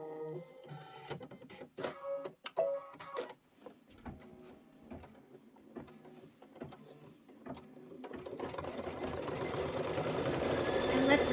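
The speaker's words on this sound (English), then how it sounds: "the next thing it's going to do the quilting stitch" A computerized embroidery machine, threaded for a quilting stitch, clicks and whirs through a few start-up movements, then settles into a rapid, steady stitching hum that grows louder.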